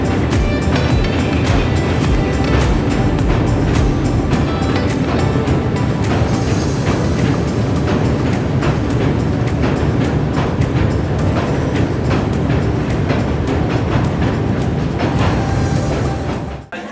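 A train crosses the Kolaghat bridge over the river, heard from inside a carriage at the window: a loud, continuous rumble broken by regular, rapid clacks of wheels over rail joints.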